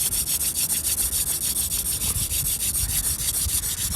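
A wooden hand-drill spindle grinds against a wooden baseboard while making fire in snow, giving a steady, rhythmic back-and-forth rubbing with regular strokes, close and fairly loud, with no talking.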